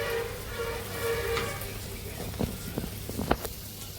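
Chopped onions sizzle in hot oil in a pan for a Ramzan chicken cheese roll recipe, a steady loud frying hiss with stirring scrapes and clacks near the end, under a voice.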